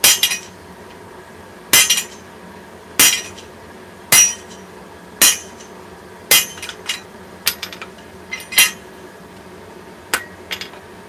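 A hammer strikes hot steel bar stock on an anvil while forging a chess piece, ringing blows landing at a steady pace about once a second, some followed by lighter rebound taps.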